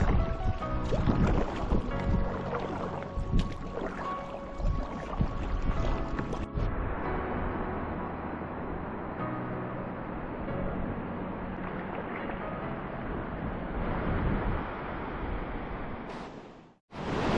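A canoe runs a class 2 whitewater river in the remote Arctic Barren Lands of Canada. Loud, continuous rushing water and hull noise fill the clip before cutting off abruptly near the end.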